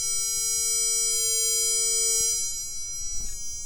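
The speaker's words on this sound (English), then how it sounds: "we will try that beep command again" A ZX Spectrum Next sounds a steady electronic beep through a newly fitted internal speaker, one sustained tone lasting about two and a half seconds, loud and close, then cutting off into faint room noise with a brief rustle.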